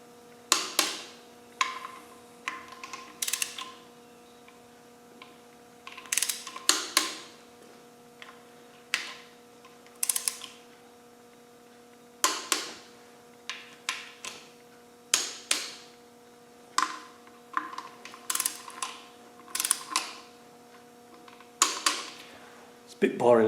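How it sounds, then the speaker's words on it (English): A ratchet tightening engine bolts in a crisscross pattern on a Land Rover 300 Tdi engine rebuild, short clicking bursts repeated at intervals over a low steady hum, close and fairly quiet. "I'm going to just use a logical crisscross pattern, and it's 25 Newton meters each."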